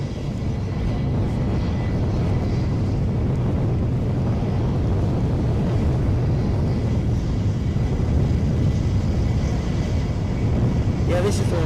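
A Ryanair jet airliner on final approach at Edinburgh Airport drones steadily in gusty outdoor air, a low continuous roar that neither rises nor fades, with wind buffeting the microphone.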